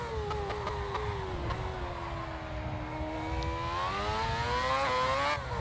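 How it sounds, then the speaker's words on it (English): An F1 car in a racing video game at the Korean GP rises in pitch as the throttle opens in second gear. The whine climbs smoothly and steadily with no voices. "that's what happens if you get on the throttle too early in second gear"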